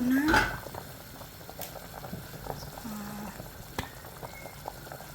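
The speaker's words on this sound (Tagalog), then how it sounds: "Kumukulo na." Filipino beef stew (nilagang baka) with banana and potatoes simmers in a covered pot, a soft bubbling patter beneath a quick clink of the lid at the start and a few faint kitchen knocks.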